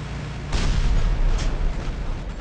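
Weapon shots and explosions from the War Robots video game rumble in heavy, booming blasts, with two stronger bursts over a continuous low roar of battle noise.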